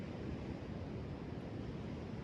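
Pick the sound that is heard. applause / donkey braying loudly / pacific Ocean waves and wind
pacific Ocean waves and wind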